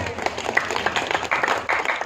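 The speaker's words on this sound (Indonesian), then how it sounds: "Tepuk tangan lagi buat Pak Lurah." An audience at a Javanese wayang performance claps for the village head, an uneven, moderate patter of individual hands with a few louder bursts and some background voices.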